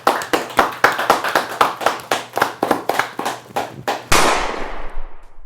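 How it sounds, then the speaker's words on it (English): A handful of sharp, loud claps land in an uneven rhythm, spaced apart like a few people clapping up close, followed by a sudden burst of broadband noise that fades away. "That almost deserves a round of applause."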